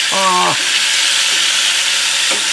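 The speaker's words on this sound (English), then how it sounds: "We got our onions going on over here." Onions fry in oil and butter over high heat, making a loud, continuous sizzle that fills the whole stretch, with a brief tonal squeak near the start and again near the end.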